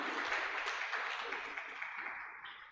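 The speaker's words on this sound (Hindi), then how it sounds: "तालियां बजाओ इसमें।" Class audience clapping together: a dense, fairly close burst of applause that stays steady, then slowly thins and fades toward the end.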